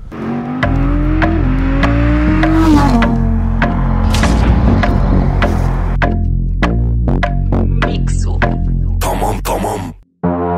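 A second-generation Audi R8 V10 Plus engine revs hard and loud, its pitch climbing and dropping in repeated bursts, with sharp pops and crackles as the throttle snaps shut.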